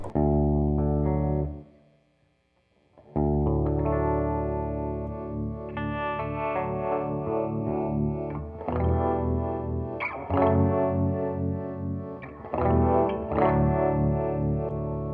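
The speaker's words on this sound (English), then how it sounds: "That sounds just like a amp tremolo, like an old Fender tremolo or something." Sustained electric guitar chords through a Strymon Flint tremolo and reverb pedal shimmer with a pulsing tremolo and washy reverb, ringing out over a brief pause before strumming resumes.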